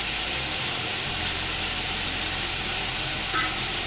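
Mutton pieces being stirred in a pan with green chillies, onions and turmeric, a steady close scraping and sizzling texture running throughout with no voices.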